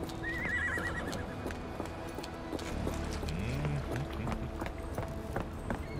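A horse whinnies, with clip-clopping hooves and a busy street ambience, in the Sherlock Holmes: The Awakened video game; the neigh is clear at moderate level, with other game sounds around it.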